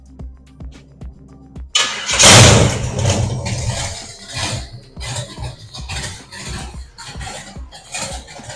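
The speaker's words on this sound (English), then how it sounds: "I'm going to go ahead and start the engine and listen for any tapping." A 1966 Chevelle engine, just after a valve adjustment, cranks and fires with a loud burst, then settles into a steady, slightly uneven idle that stays close and loud with no talking over it.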